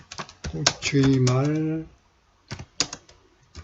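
Typing on a computer keyboard in WordPad on Windows 10, scattered sharp key clicks around and after a voice speaking briefly, near and distinct.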